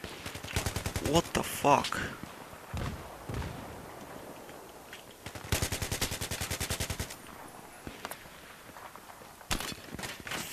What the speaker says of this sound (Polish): Ktoś do mnie strzela.